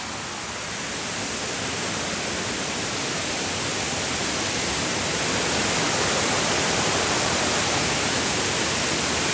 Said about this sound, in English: We'll see how this waterfall stacks up.